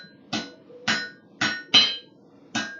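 In a forge, a blacksmith strikes a forged metal tag with a hammer to clean it up: five bright, ringing blows at a steady, unhurried pace, close and clear with no talking.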